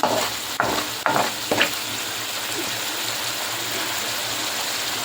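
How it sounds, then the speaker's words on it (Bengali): Chili spice paste for a spicy sea fish curry sizzles steadily in a pan, with three or four sharp scraping stirs early on, then an even frying hiss carrying on alone. "প্রায় আমি এই মরিচ মশলাটা 10 মিনিটের বেশি ভালো করে কষিয়ে নিচ্ছি।"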